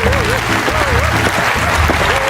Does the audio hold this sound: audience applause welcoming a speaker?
yes